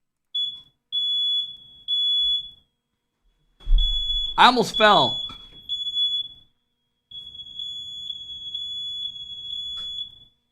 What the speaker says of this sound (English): and then the alarm started going off.